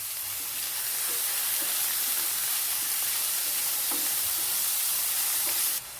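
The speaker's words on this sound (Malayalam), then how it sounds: "ഇതിലേക്ക് 2 സവാള നമ്മൾ ചെറുതായിട്ട് അരിഞ്ഞതും കൂടെ ഇട്ട് കൊടുക്കാം. ആവശ്യത്തിനുള്ള ഉപ്പും കൂടെ ചേർത്ത് നന്നായിട്ടിത് വഴറ്റിയെടുക്കാം." Chopped onions and salt sautéing in a pan for potato curry, a loud, even hissing sizzle that runs steadily throughout, close to the pan, with faint stirring taps and no speech.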